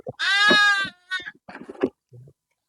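A sheep bleats once, long and loud and close, with a quavering tone. Shorter, fainter bleats and murmurs follow in uneven bursts, then a low brief call at the end.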